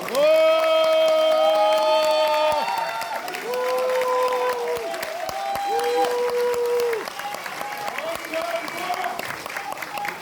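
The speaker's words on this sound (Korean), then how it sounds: "여러분들 큰 박수로 환영해 주십시오" Crowd applause and cheering at a party launch ceremony, loud sustained clapping that swells and fades while a voice sings or chants over it.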